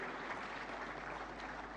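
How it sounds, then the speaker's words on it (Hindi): Applause from an award ceremony audience, steady, dense clapping sustained throughout at a moderate distance, with no voices over it. "श्री करणवीर सिंह सिबिया के लिए जोरदार तालियां"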